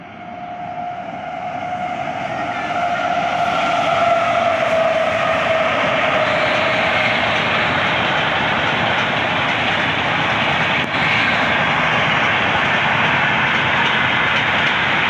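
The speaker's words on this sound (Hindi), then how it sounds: "तो आपको पहला दिखाते हैं एक्शन अमृतसर से हावड़ा जाने वाली अमृतसर हावड़ा एक्सप्रेस का" The Amritsar-Howrah Express passes on the Ludhiana-Ambala line as a loud, sustained rumble that swells within the first few seconds and holds steady, with a high horn-like tone early on and faint clickety-clack underneath.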